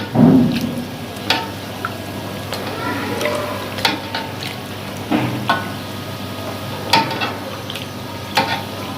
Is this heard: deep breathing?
no